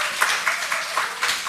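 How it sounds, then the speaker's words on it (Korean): A small congregation at a Wednesday church service claps briefly. The applause is light and fairly close, with a handful of distinct rhythmic claps standing out. "박수 한번 칩시다."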